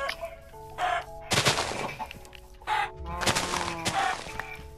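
Clucking chicken in Minecraft, a few short game-sound bursts repeating in quick succession with no one talking over them.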